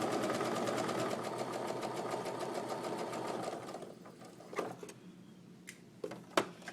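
A sewing machine stitches a quilt block in a fast, even run of needle strokes that stops partway through. Scattered clicks and light handling noises follow in the quiet.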